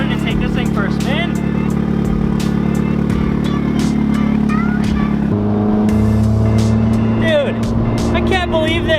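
A Mazda Miata that hasn't been driven in months and is leaking fuel and transmission fluid runs and drives, its engine droning loud and close with pitch rising and falling as it shifts, a voice talking briefly over it.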